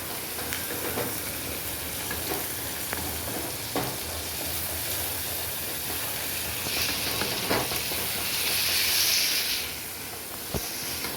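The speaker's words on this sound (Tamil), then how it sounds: "இந்த கருவாடு போட்ட உடனே குழம்பு எல்லாமே நல்லா கொதித்து நல்லா வாசமாக இருக்குது" Tirunelveli-style dried fish (karuvadu) curry bubbles in a pot, giving off a steady, close hissing simmer with scattered soft pops and clicks and no talking.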